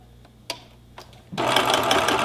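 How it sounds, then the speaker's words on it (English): A sewing machine zigzag stitching the edge of a pillowcase: a couple of faint clicks, then the motor starts and runs in a steady, dense, fast whir close by. "to use the sewing machine like a serger, you simply make sure that the pieces are down like this, okay? And you zigzag stitch"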